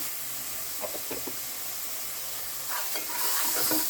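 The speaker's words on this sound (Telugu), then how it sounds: "అల్లం వెల్లుల్లి పేస్ట్ వేసాక బాగా మిక్స్ చేసుకుని పచ్చివాసన పోయేదాకా వేయించుకోవాలి" Ginger garlic paste fries with half-cooked onions in separated oil for an Andhra-style egg and potato curry, a steady close sizzle with a few soft stirring scrapes, growing slightly louder toward the end.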